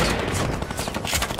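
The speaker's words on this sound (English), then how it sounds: "it's because they're machine gunning us" Rapid bursts of machine gun fire in a Fortnite match crackle densely and loudly, shot after shot with almost no gap between them.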